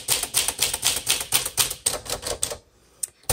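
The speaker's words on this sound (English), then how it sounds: "this is a book writer's typewriter" A 1954 Smith Corona Silent Super manual typewriter types in a quick, steady run of crisp keystrokes up close, then pauses before a final couple of strikes.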